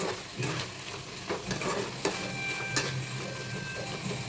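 A spoon scrapes and stirs tempering for onion chooda in a hot pan with soft sizzling, a few sharp clinks and scrapes standing out.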